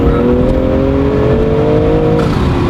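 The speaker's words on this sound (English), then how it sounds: "Damn, that turbo is crazy too though." A Brabus G63 with a turbocharged engine holds a loud, steady rev, its deep rumble topped by a rising whine that lifts gradually and eases off near the end, close and unbroken throughout.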